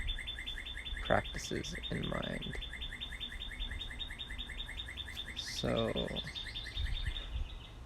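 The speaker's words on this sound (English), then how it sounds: "the bird is amazing" A bird in the open chirps in a fast, steady run of bright repeated notes that carries on throughout, with someone talking quietly at moments underneath and faint background hiss.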